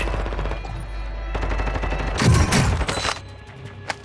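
Automatic gunfire in the Call of Duty: Modern Warfare II video game, rapid bursts of shots growing louder and denser midway, followed by a few scattered sharp cracks as the fire trails off.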